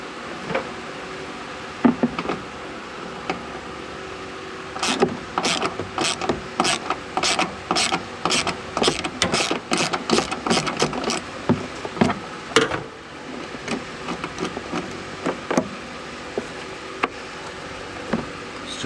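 Ratchet wrench backing bolts out of the cover on a Cub Cadet lawnmower, a series of close, rapid clicking bursts with short pauses between, fairly quiet and without talk.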